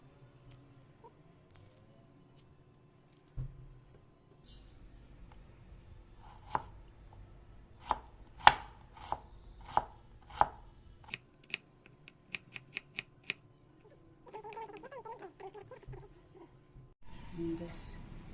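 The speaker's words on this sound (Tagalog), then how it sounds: "maghiwa tayo ng sibuyas" Onions being chopped with a knife, a run of about a dozen sharp, evenly spaced taps on a board that speed up toward the end, set in a quiet room with some faint background sounds and talk.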